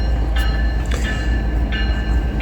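A BNSF GE Evolution series locomotive passes close by with its train, a loud steady rumble and rolling roar, with a few brief bright squeals rising above it.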